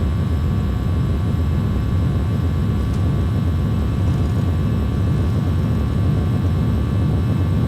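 Airbus A320 jet engines in X-Plane 10 on the takeoff roll, a loud steady roar with a deep rumble and a faint high whine, unbroken and alone throughout.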